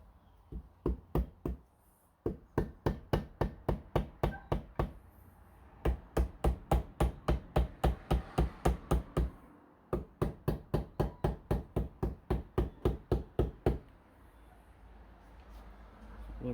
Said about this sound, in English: I have to hit right here with this dowel pin